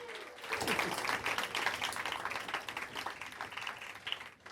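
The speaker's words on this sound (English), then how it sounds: "Big round of applause for Jay Yamaki." A live rap battle crowd in Tokyo claps for a UK battler, a steady wash of applause that holds for several seconds, fairly loud and dense, then thins out at the end.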